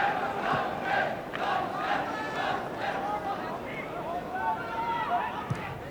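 Small football crowd at a Swansea international between Wales and Norway, a steady murmur of applause and raised voices that swells briefly in appreciation, heard at a distance beneath the general stadium hubbub.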